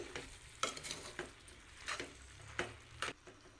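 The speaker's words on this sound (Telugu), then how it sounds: "ఈ ఉప్పు కారం కూడా బాగా కలిసేలాగా కలుపుకోవాలి" A spoon stirs chili powder and salt into a brinjal and tomato curry in a pan, giving several soft scraping strokes with light bursts of sizzle at an irregular rhythm, close and fairly quiet, with no talking.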